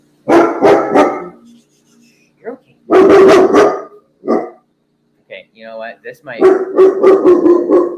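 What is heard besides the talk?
dog barking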